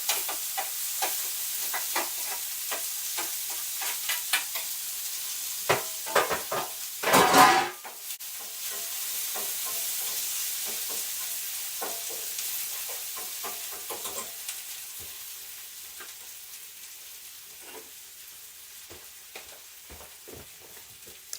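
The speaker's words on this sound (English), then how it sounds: "Let's get the onions in." Onions go into a hot pot used for eggs during a Jamaican-Canadian family brunch, with a loud sizzling burst as they land, then a quieter steady frying hiss and scattered clinks of utensils against the pot.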